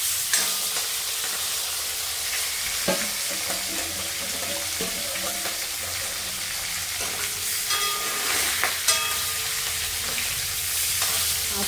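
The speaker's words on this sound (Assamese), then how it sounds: "কাৰণে একেলগে গোটেই কেপিচ মাছ মই তেলতে দি লৈছোঁ" Fish pieces fry in hot oil together in a pan for a fish and colocasia curry, with a continuous close sizzle and occasional stirring clinks.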